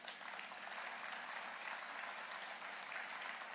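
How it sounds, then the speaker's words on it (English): Faint, steady applause from an audience at the 2022 Macon-Bibb State of the Community address, a distant, continuous wash of clapping with no other sound standing out. "You can clap."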